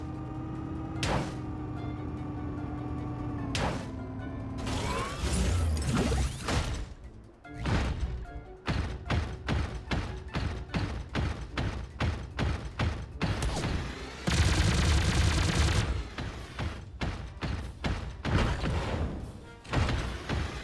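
Gunfire rings out in the cartoonish battle royale game Sausage Man, with loud, dense bursts of rapid shots and sharp impacts repeating throughout, near and intense, with no talking over them.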